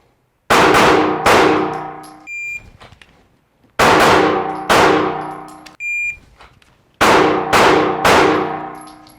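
Pistol shots ring out in sharp bursts of two or three during a draw-and-fire drill, each crack followed by a bright metallic clang from steel targets and a short decaying ring, with pauses between strings.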